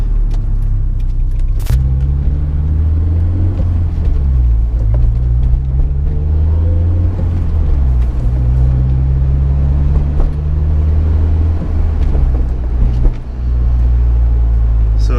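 Steady low road drone inside a Honda S2000 cabin with the soft top up, differential and transmission whine mixed into a loud, continuous rumble with slight pitch shifts as the car pulls.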